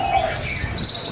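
Pet parrot offered for sale in Thailand, chirping and tweeting in a continuous high, busy stream close by, with no talk over it.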